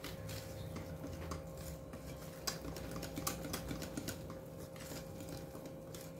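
Dry cake ingredients for an apple cake are sifted through a sieve, giving quiet, rapid rattling taps and light scratchy clicks. The sound is faint and close, with no speech.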